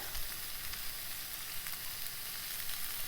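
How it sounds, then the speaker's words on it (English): Vegan pad Thai noodles sizzle steadily as they are stirred and separated in a hot pan, with faint scraping of the utensil under a continuous frying hiss. "I'm going to just kind of stir the noodles, make sure they're getting separated"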